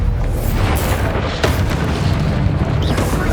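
Bombarda spell blast from Hogwarts Legacy, a loud, dense explosive rumble that fills the whole moment with a sharp burst near the middle, no voices over it.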